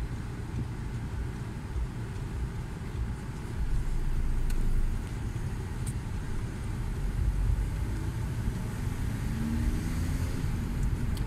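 A car drives steadily through a town during a driving lesson, turning left at a junction, with continuous low engine and road rumble that swells briefly midway; no talk.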